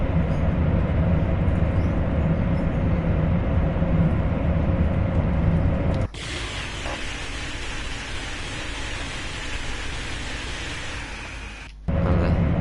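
High-speed train in Train Sim World 2 on the Köln high-speed line running near TGV speed, with a steady loud rumble and rushing wind roar throughout, a sharp shift in cab sound midway, and no talking.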